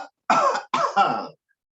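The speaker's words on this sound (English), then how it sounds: "And breathe in and cough." Two short, close coughs in quick succession during a chair yoga breathing exercise, each a harsh throaty burst with silence before and after.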